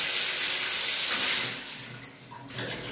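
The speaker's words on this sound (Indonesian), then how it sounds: "Airnya kencang." A household water tap is opened to full flow during a clogged-faucet repair, giving a loud, steady rushing gush that eases somewhat in the final second.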